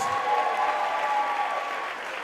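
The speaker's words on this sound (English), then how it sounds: "So please, one last round of applause for Lily Gomez, Star Farrugia, Jennifer Munoz." An audience at the Miss Gibraltar 2018 pageant gives a steady, full round of applause for the contestants, dense and sustained at even loudness with no talk over it.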